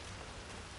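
Steady, dense rain pattering on surfaces in the video game Hitman 3, a constant even hiss with no pauses or talking, fairly loud and close throughout.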